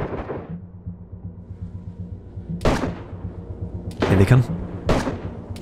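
A grenade blast in the DayZ video game sounds as a loud, deep boom, followed by further heavy booms, all over a low rumbling background, while a voice speaks briefly.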